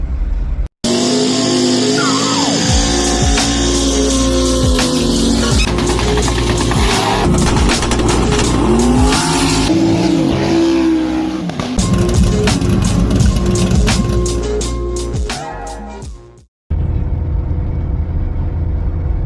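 Car engine and tyre noise from driving in bumper-to-bumper traffic near Atlanta, heavy and continuous with squeals and revving passes, loud and close throughout before cutting out abruptly near the end.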